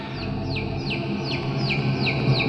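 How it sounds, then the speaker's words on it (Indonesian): Small chicks peep at night in a rapid, steady series of high chirps, several evenly spaced calls over a constant background hum, with no voices. "ketika aku mendengar suara ciakan anak ayam"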